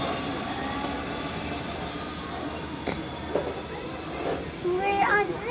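A train passes through Shoreham station with a continuous rolling rumble and faint wheel squeals rising toward the end, heard from a platform under nearby talk.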